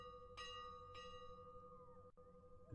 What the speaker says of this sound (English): Oh, there's a bell